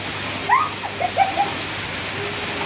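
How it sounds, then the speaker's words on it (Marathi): Broadband rain hiss fills the background steadily, with a few short bird chirps standing out near the start and middle. "बघा किती पाऊस आहे"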